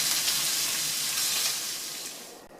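Pork tenderloin sears in a skillet, giving a steady, close, broadband sizzle and crackle that holds for nearly three seconds and eases off slightly at the end, with no talking.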